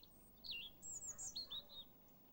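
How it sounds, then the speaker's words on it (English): Robin singing in a British garden, a quiet, thin phrase of high sweet warbling notes and trills, several short bursts in quick succession over a faint background. "You can hear the robin's song in most months of the year."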